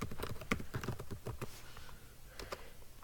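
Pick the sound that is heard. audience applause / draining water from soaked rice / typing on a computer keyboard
typing on a computer keyboard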